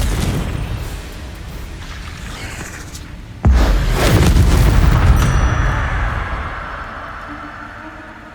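A Confringo fire spell explodes in the Hogwarts Legacy video game, a sudden loud boom that lands hard and then rolls into a long rumbling blast that fades over several seconds, preceded by quieter in-game ambience.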